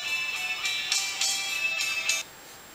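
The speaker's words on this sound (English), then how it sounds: "I have my ringtone." A Sailfish OS phone plays a ringtone, a tinny rhythmic metal riff with repeated bursts, then stops abruptly near the end; no voices.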